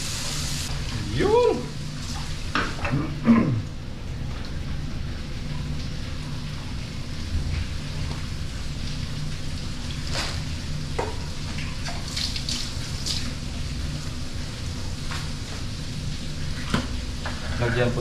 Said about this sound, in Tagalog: Lagyan natin ng tubig mga kaloko.